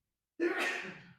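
A single sneeze-like burst of breath cuts in after a moment of silence, sharp at onset and then trailing off into a breathy exhale, close and fairly quiet.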